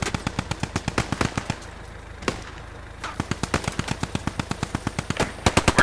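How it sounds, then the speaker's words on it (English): A Vickers machine gun fires in the World War II game Post Scriptum: loud, close, rapid rhythmic bursts of evenly spaced shots, a short pause with a single shot, then sustained fire again. "The Vickers gun is a very good machine gun."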